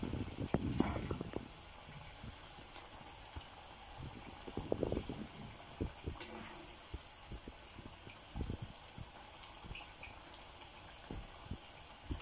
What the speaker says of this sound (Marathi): हा कांदा आपल्याला छान ब्राऊन कलरवर तळून घ्यायचा आहे.